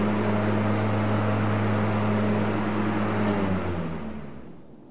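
A steady motor hum from a running lawn mower, even and fairly loud, fading out toward the end.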